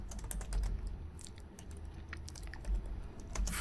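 Fingers type HTML form code on a computer keyboard, a fast, dense patter of keystrokes, close and steady with a low hum beneath and no talk.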